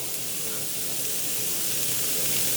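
Finely chopped capsicum, green chili and curry leaves sauté in a pan for a cabbage omelette, giving a steady, even hiss and sizzle that holds at a moderate level without any pause.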